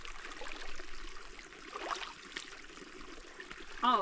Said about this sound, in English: Tell me if that's warm or cold water coming in.